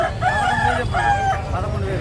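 A native-breed rooster crows loudly and close by at a Sunday country-chicken market in Nellore, two or three drawn-out cock-a-doodle-doo calls in quick succession over a low rumbling background.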